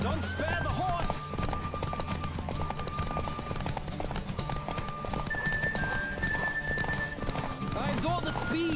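Rapid, even hoof clatter of Geralt's horse Roach racing flat out in The Witcher 3: Wild Hunt, with occasional whinnies over a music bed and a voice speaking during the gallop.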